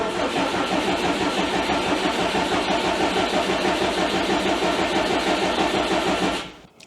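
A built Subaru WRX, started after four years sitting, cranks and catches, then runs with a steady, rough mid-pitched engine rumble for several seconds before cutting off abruptly.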